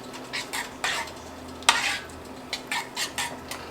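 A pot of sauce for cheesy chicken and spinach stuffed shells is stirred, with repeated soft scraping strokes in a loose rhythm, a sharp clink at one point, and a faint simmer underneath; no talking.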